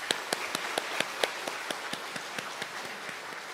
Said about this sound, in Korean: 우리 잠깐 일어나 주시면 우리 박수로 환영하겠습니다.